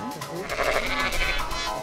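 East Friesland dairy sheep on a farm bleat in a wavering, continuous call, fairly close and prominent, over a low rumbling outdoor background.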